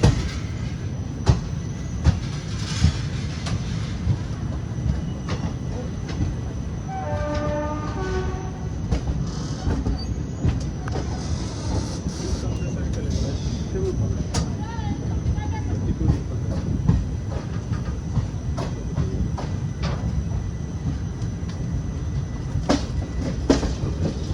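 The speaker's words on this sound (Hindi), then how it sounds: "देखते हैं कौन से जंगल जंगल झाड़ में रुकता है ये ट्रेन।" Moving train pulling out of a station, a continuous rumble of wheels and carriages with periodic rail clicks, a brief squeal and a faint horn-like tone partway through.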